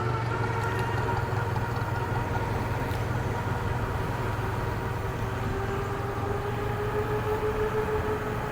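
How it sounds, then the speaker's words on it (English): A train rolls past with a steady low rumble and droning hum, constant and moderately loud for over eight seconds, heard from beside the tracks while out on an e-bike ride. "The train."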